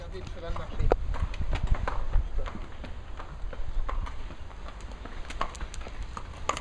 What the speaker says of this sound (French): Regardez le cheval marcher.